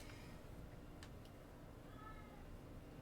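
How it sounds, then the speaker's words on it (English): A cat meows faintly in the background, one drawn-out meow over a steady low hiss. "Got that cat in the background."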